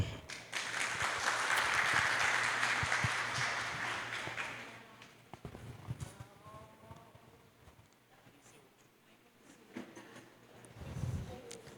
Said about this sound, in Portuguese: vamos com alegria e com uma forte salva de palmas acolher e receber a Cissa Loyola